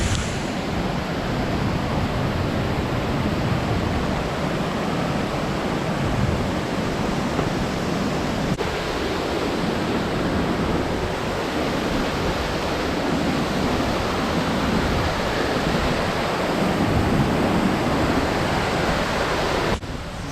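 A constant, loud rush of falling water roars without a break, dense and steady from start to finish.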